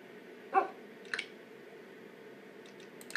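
Animated dog assistant in Microsoft Bob software giving a short bark or yip, followed by a couple of quieter soft squeaks and clicks over a steady low hum.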